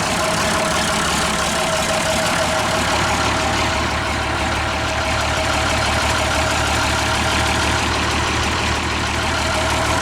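Gasoline engine of a 1952 Unit crane or 1957 Champ forklift runs steadily at a close, loud, even idle-like drone for the whole stretch, with no voices over it.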